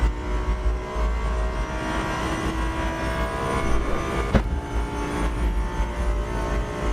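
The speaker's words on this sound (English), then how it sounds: "The sound of the exhaust is absolutely crazy." Race car exhaust in Assetto Corsa EVO, a steady loud engine drone with a sharp backfire crack near the middle, continuous throughout with no talk.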